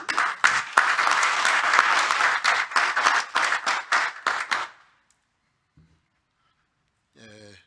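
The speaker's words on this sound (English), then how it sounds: "Please give Prof. Dan a round of applause." Applause from a higher education colloquium audience, a dense burst of clapping for about five seconds that stops abruptly, followed by near silence and then a brief bit of speech.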